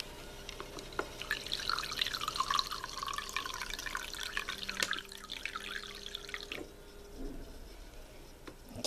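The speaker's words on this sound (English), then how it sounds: "I'm just going to fill this container with 1 cup of water" Water from a kitchen tap runs into a container, a continuous splashing trickle with small drips and clinks, fairly quiet and close, stopping near the end.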